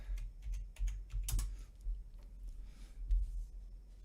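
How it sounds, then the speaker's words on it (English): Rapid typing on a computer keyboard, a burst of light, irregular key clicks at close range, with a couple of sharper clacks, quiet overall and with no voices. "Started typing what I was saying."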